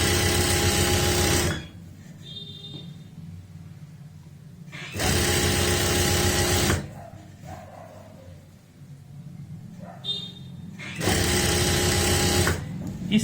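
Three separate bursts of a sewing machine attaching a strip with a half-inch margin onto palazzo pants, each run loud and steady, with quieter pauses between them.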